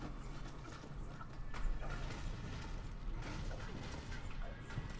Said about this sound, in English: Turn on the meat grinder.